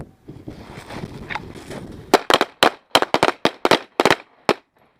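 Handgun gunshots crack on a shooting range, a rapid irregular volley of a dozen or so sharp, loud reports, some overlapping, after a brief stretch of low murmur.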